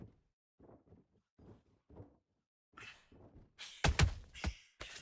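A counter punch lands in the boxing game Undisputed as a few sharp, close thuds near the end, preceded by quiet rustles and soft movement.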